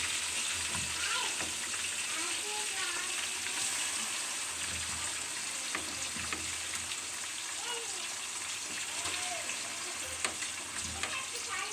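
Meat for Hyderabadi biryani sautéing in a pan gives a loud, continuous sizzle and hiss with bubbling crackle throughout, close up, and occasional stirring scrapes beneath it.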